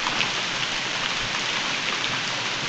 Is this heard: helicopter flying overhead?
no